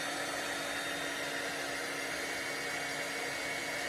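A heat tool blows hot air onto a paper butterfly embellishment, a steady close whooshing hiss with a constant motor whine underneath, heard alone.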